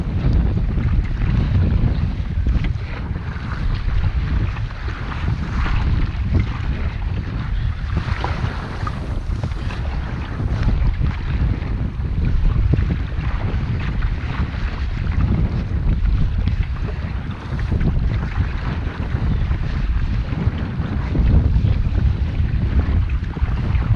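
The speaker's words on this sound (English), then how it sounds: "Get right away from some of these waves." Steady rush of wind and breaking waves surround a kayak near Hope Island, with water slapping and loud wind buffeting the microphone continuously, with no talking.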